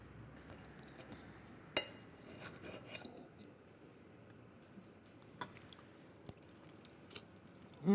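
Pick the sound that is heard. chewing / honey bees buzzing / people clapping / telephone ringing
chewing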